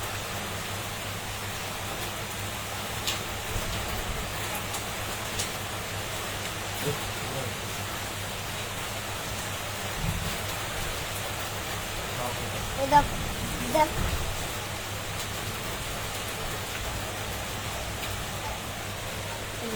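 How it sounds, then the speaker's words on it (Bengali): Heavy rain during a Kalbaishakhi storm in Dhaka, a constant even hiss of downpour with a low steady hum underneath and a few faint knocks, lasting throughout. "খালি বৃষ্টি আর বৃষ্টি বৃষ্টি বৃষ্টি"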